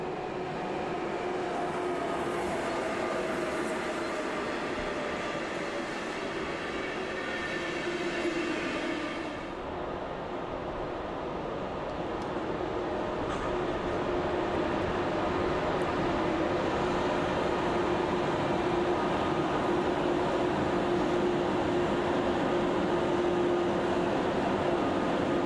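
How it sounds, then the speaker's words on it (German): A steady electric train hum and rolling rumble from nearby as a black MRCE Taurus locomotive hauls an Intercity train, with a rising whine and constant wheel noise throughout. "Ein schwarzer MRCE Taurus ist mit einem IC nach Frankfurt am Main unterwegs."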